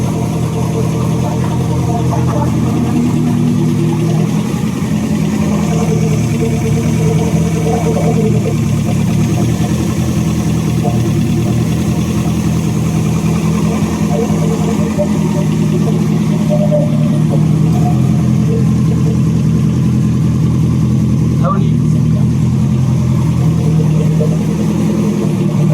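A car engine runs right after repairs for a cracked piston pin, close and loud, holding a steady idle with slight rises in revs across the whole stretch.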